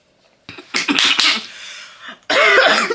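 A few sharp, harsh coughs come in quick succession, then a pause and a longer, rough burst, all loud and close.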